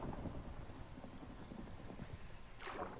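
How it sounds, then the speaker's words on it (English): In Minecraft, a continuous roar of rain with low rumbling thunder, and a swelling rush of noise near the end. "The thunder noises scare the dog."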